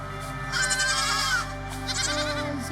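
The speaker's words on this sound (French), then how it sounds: "Oh, un petit agneau." A lamb bleating among sheep in the video game AER: Memories of Old, two wavering bleats over steady game music, close and clear.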